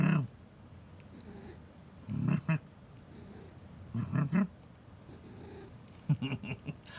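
A cat answers with low, short meows or purring grunts in four separate bursts, close and fairly quiet, with near-silence between them.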